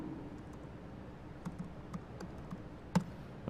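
Typing on a computer keyboard during a conference talk, a faint scattered run of soft key taps and clicks, a few slightly louder strikes, over a quiet room hum.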